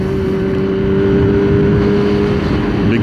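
A big cruiser motorcycle rides close behind on a warm day, its steady engine drone humming continuously under wind rush for the whole stretch.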